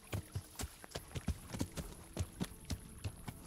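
Horse hooves clip-clop in an even, trotting rhythm, with about a dozen crisp, close hoofbeats in the video game Kingdom Come: Deliverance and nothing else competing with them.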